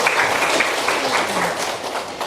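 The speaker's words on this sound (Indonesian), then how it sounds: "Tepuk tangan dulu untuk kelompok yang punya hasil." A classroom audience applauds a presenting group during a lesson practice session, a dense spread of hand claps that starts strong and gradually thins over a couple of seconds.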